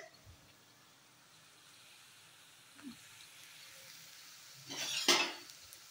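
Masoor dal fritters (bora) made without onion fry in oil in a pan, a faint steady sizzle broken by a couple of brief scraping stirs with a utensil, no talking.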